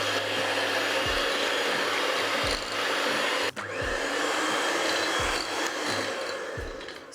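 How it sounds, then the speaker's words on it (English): Eggs beaten with an electric hand beater: a loud, continuous whirring motor drone with a rough rasping texture, holding steady for several seconds with faint periodic dips as the beaters move through the bowl. "I'm using an electric hand beater"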